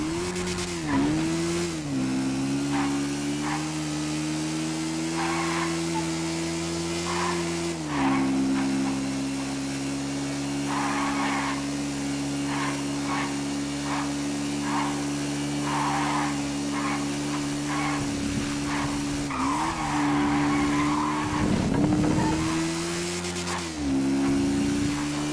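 A motorcycle engine on a test ride drones steadily with a humming tone that dips and rises, broken by scraping skid-like bursts, close and continuous with no talking.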